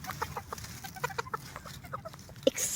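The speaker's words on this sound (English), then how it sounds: "These are chickens." Chickens cluck in short, scattered bursts at moderate distance, with one sharper squawk near the end against a quiet background hum.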